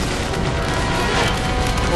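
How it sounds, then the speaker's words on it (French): A loud, sustained rumbling blast from an explosion in Life Is Strange: True Colors, dense and steady for the whole two seconds, with no voices over it. "Oh non, explosion."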